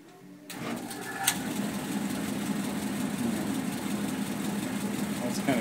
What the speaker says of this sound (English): we'll see if we can turn that blower on